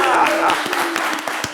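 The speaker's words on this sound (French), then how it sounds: "On applaudit." Scattered hand claps break out at a lively midday TV talk show, a handful of sharp claps over a murmuring studio crowd and voices.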